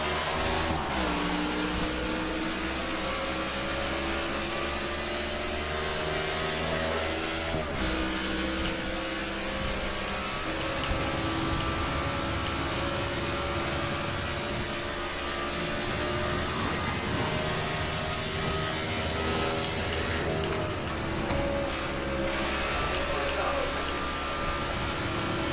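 Pack of NASCAR stock cars racing at Charlotte Motor Speedway in the video game NASCAR '15, a dense, constant engine roar with shifting whining pitch throughout, loud and steady.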